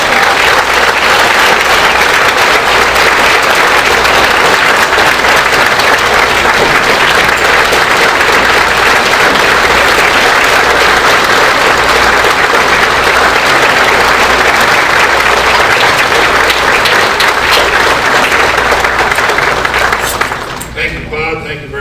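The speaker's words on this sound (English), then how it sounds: "I welcome you to join me in giving a warm applause to the delegate from Brunswick County, Dr. William J. Bennett." Loud, sustained applause fills a large hall at the 2014 North Carolina Republican state convention, a dense roar of clapping and crowd noise lasting about twenty seconds before it cuts off abruptly.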